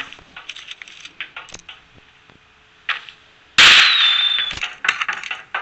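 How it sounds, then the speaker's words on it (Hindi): Gunfire in a battle royale video game match: scattered sharp cracks and pops, then a loud burst with a ringing tail and more rapid shots afterward, no one talking. "चलो इसने एक फायरिंग की है"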